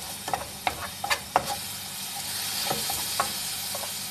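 Onions frying in a pan while being stirred so their juice cooks off, a steady close sizzle broken by several sharp scraping stirs of the spoon, no talking.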